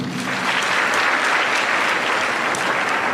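A university career day audience gives a full, even round of applause, dense clapping sustained at a steady level throughout.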